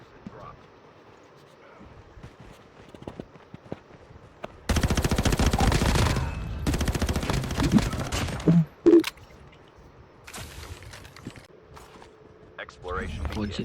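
Machine gun fire in the mobile shooter game Call of Duty Mobile comes as two long, loud rattling bursts, then a few short shots, set among quieter game sounds.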